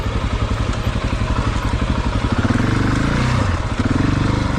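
A Husqvarna 701 dual-sport motorcycle engine revs hard as the rear wheel spins in wet, sewage-smelling mud, a loud close pulsing thump that rises in pitch and intensity midway through.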